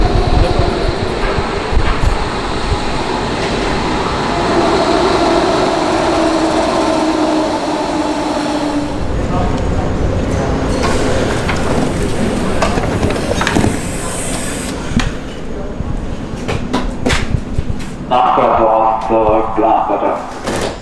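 A nearly empty train rumbles through Berlin after midnight, a steady interior drone with rattles and clunks while people converse over it.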